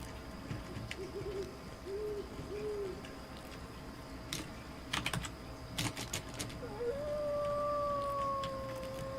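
A wolf's howl in a video game about raising pups at a den, first as short wavering calls, then as a long sustained tone near the end, mixed with clicking keystrokes.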